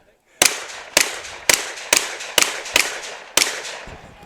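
Seven sharp shotgun blasts in a competition shooting run, fired in a quick steady rhythm about half a second apart, loud and close, each with a short ringing decay.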